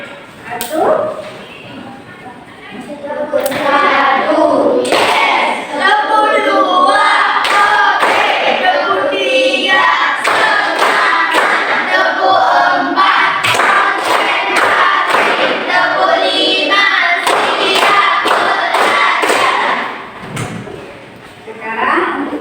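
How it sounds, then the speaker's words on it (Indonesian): A classroom group performs a rhythmic spirit clap, tepuk semangat, a loud run of sharp, patterned hand claps mixed with voices chanting along throughout. "tepuk semangat dulu sekali lagi"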